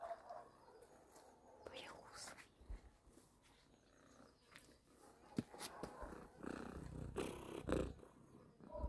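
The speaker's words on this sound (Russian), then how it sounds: "А это мурлыка. Это вы ее слышите." An outdoor cat, a stray that now has a home, purrs faintly and softly near the microphone, mixed with rustling and handling noises and brief voices nearby.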